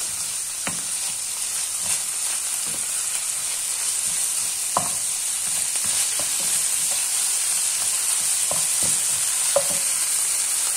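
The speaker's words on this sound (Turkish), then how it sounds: "Kıymamız ve soğanlarımız birbiriyle pişecek arkadaşlar" Ground meat and onions fry in a pan for a Turkish minced-meat potato dish, with a steady sizzle throughout and repeated scraping, clacking stirs of a utensil against the pan at irregular intervals.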